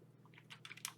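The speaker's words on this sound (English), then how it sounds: "I type it wrong." Several computer keyboard keystrokes clatter in an uneven run while entering a login password, growing louder and more emphatic toward the end over a low steady hum.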